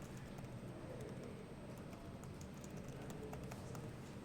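Keys clatter softly on a computer keyboard during a programming lecture, a faint, steady patter of fast keystrokes with no talk over it.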